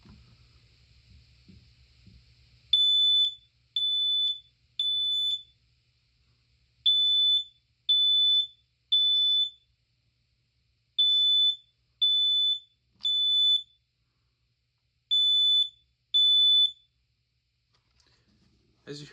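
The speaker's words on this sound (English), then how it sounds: "As you heard, 3 beeps, pause, 3 beeps, pause, and it keeps going. That's temporal 3." Smoke alarm sounding in a temporal 3 pattern: sharp, high, piercing beeps in groups of three with a pause after each group, repeating four times, loud and close after a few seconds of quiet low rumble.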